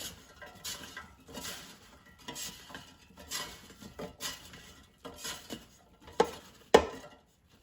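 Seasoned bread croutons tossed by hand in a bowl, a soft rhythmic series of rustling, crunchy shakes, fairly quiet and close, ending with a couple of sharper knocks against the dish.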